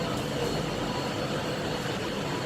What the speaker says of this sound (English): now here the train has arrived